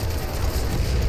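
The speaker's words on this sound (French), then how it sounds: "Je tire une grenade red live là." A grenade blast in the World War II shooter Enlisted, heard as a sustained, dense low rumble of explosion and gunfire filling the whole moment at high volume.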